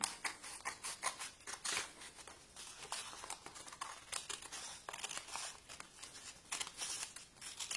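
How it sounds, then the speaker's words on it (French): Scissors trim excess paper from an origami horse, giving quick, faint snips and crisp paper rustles in an irregular rhythm, close up and quiet. "Vous allez retirer l'excédent de papier à l'aide d'une paire de ciseaux."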